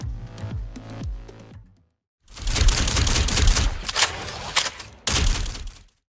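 Brief low musical tones, then a short silence, followed by dense, loud rapid gunfire from Bastion's turret mode in Overwatch, rattling for several seconds, pausing briefly, and bursting again.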